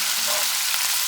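Six chilies frying in a pan for a homemade pasta sauce, giving a steady, close hiss and crackle of sizzling oil that runs evenly and alone throughout.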